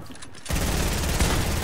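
Video game gunfire erupts after a brief quiet moment, a dense, continuous barrage of rapid shots that stays loud and unbroken to the end.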